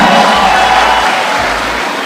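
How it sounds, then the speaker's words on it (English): Dense, loud crowd applause at a finalists' presentation event, a continuous wash of clapping that fades slightly toward the end. "Round of applause, ladies and gentlemen."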